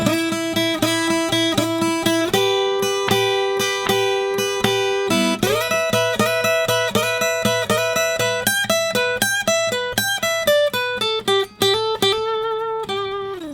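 Slow blues guitar lick in E, built on triplet phrasing: a steady run of sustained, bent and picked electric guitar notes that stays loud and close from start to finish, with no talking.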